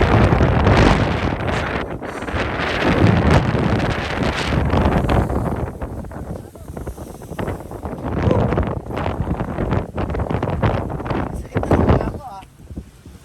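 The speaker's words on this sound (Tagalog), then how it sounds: "Sa lakas ng hangin, may buhangin." Strong gusting wind near the Bangui windmills buffets the microphone with a loud, continuous roar that swells and dips throughout, with speech-like sounds mixed into the blustery noise.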